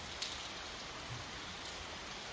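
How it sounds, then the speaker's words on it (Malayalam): Heavy nighttime rain falls steadily outside a village home, a soft, even wash of noise with a few faint drop taps. "പെരുമഴയാണ് ഇപ്പോൾ പെയ്തുകൊണ്ടിരിക്കുന്നത്"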